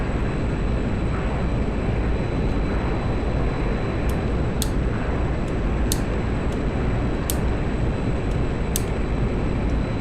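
A fighter jet engine roars steadily in a flight combat game, a constant loud broadband rumble joined by a few short, sharp high electronic beeps.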